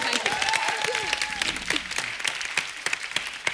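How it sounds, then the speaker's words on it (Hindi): Studio audience applause on a Hindi comedy talk show, a lively burst of crowd clapping with voices and cheers mixed in over it, continuing at a steady level throughout. "जोरदार तालियां इनके लिए."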